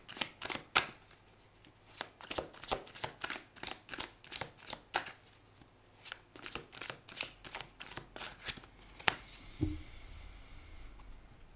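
Tarot cards are shuffled for a weekly reading, giving a close, quiet run of crisp riffling bursts in an irregular rhythm, followed by a softer slide and a faint low thud near the end.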